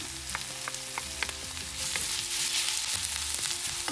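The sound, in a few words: onions sautéing in a pan for beetroot pachadi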